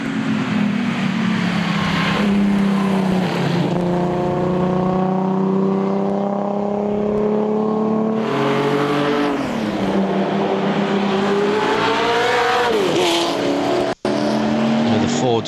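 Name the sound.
classic TVR Grand Tourer race car at Le Mans Classic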